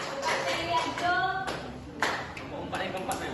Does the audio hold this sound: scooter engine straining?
no